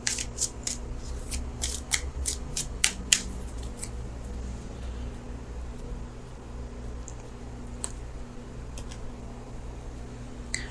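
Cards from a tarot deck being shuffled and pulled give a run of crisp, close flicks and snaps in the first few seconds, then sparser light taps over a low steady hum.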